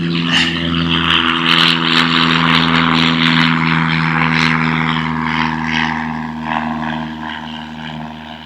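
Small single-engine propeller airplane taking off, a loud steady droning engine hum with strong harmonic tones rising as it passes nearby, then slowly fading into the distance with no voices.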